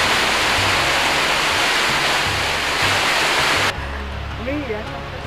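Waterfall in a mountain gorge near St André des Alpes, a loud steady broadband roar of falling water that softens slightly toward the end, with a faint low voice-like murmur underneath.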